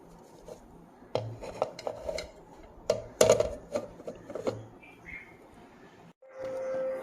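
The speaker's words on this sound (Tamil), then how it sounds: "இதை வந்து அப்படியே மூடி மூடி வச்சிடலாம்" A lid is pressed shut on a container of oats and fruit mix, giving a few sharp clattering knocks and clicks spread over several seconds, with a brief hum near the end.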